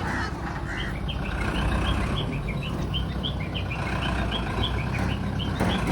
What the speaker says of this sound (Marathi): आता आम्ही आमचा ट्रक घेतो रिवर्स मध्ये घरापर्यंत.